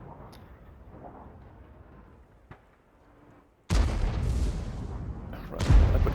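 Tank cannon fire in a tank video game on the Himmelsdorf map: a quiet stretch, then a sudden loud blast that rumbles on, and a second heavy boom near the end.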